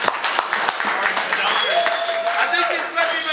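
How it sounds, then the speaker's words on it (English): An audience applauds steadily with clapping and cheers, while voices call out and talk over the noise. "No, everyone give him a round of applause for Darren."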